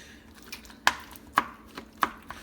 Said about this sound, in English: I'm going to show you how to cut this okra